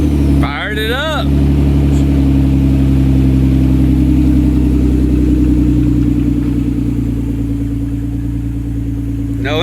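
A 1999 Isuzu Trooper with a freshly replaced engine runs at a steady, loud idle close by, a constant low rumble throughout, with a brief voice near the start.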